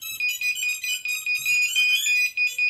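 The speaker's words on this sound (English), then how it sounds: "It's going to make all its beeping noises" A rapid series of high electronic beeps and tones from an FPV drone's ESCs as the LiPo battery is plugged in, bright and close, like a startup chime sequence with brief pauses.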